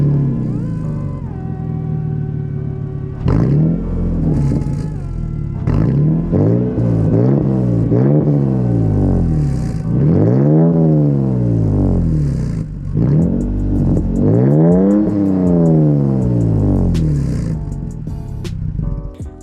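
A third-generation Toyota Tacoma pickup with a carbon exhaust cranks and starts, then idles and revs repeatedly, giving a series of loud rising and falling engine swells with a throaty rumble between them, close and alone.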